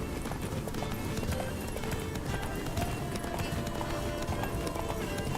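Geralt's horse gallops through Toussaint in a video game, its hooves beating a rapid, steady clip-clop rhythm that runs continuously and close up, with faint game voices and ambience underneath.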